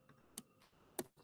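Computer keyboard typed on in a quiet room during an online class, with a couple of sharp, isolated key clicks spaced well apart and no voices.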